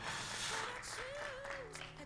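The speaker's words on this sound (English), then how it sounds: "clap your hands" Church audience applauding a guest speaker, a continuous wash of clapping hands with a voice speaking over it.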